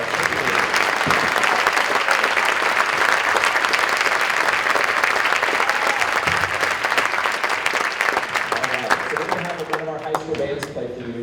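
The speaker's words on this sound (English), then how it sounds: "So how about another round of applause for all of our sixth graders?" Sustained, loud applause from a school concert audience honoring a sixth grade beginning band, with clapping and some cheering filling the whole stretch before it thins near the end.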